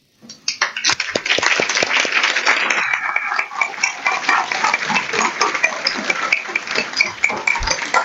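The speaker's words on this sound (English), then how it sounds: "please stand for a round of applause" Audience at a school board meeting in Fort Bend breaks into applause, dense clapping swelling quickly and holding steady throughout, with a few louder claps near the start.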